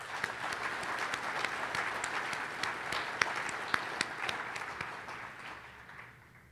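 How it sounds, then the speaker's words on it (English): Applause for the scientific program organizers at a plenary conference session, a dense, steady round of clapping from a large audience that holds for several seconds, then thins and fades toward the end. "So give Thierry, Sukho, and all Matthias Ehme, and all who worked on the scientific program another big round of applause."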